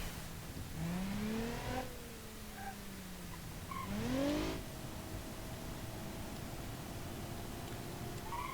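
A car's engine in the BeamNG.drive driving game revving hard while stuck in one gear, the pitch climbing and dropping in two strong surges and then settling to a steady high drone over faint background noise, no voices.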